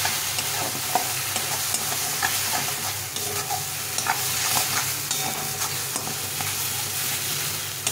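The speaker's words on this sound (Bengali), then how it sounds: "পরিমাণ মতো হলুদ গুঁড়ো দিয়ে এটাকে ভালো করে কষিয়ে নিতে হবে" Vegetables sautéed with turmeric powder and salt in a pan, giving a steady close sizzle with frequent scraping and stirring clicks from a spatula throughout, and no voices.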